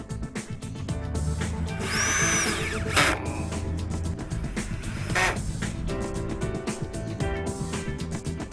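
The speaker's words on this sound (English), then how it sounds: "you can now add a screw to their side in order to fix them to the battens." A power drill drives screws into the side of floorboard clips to fix them to battens, with short whirring bursts, a rising motor pitch and knocks and clatter between runs, no voices.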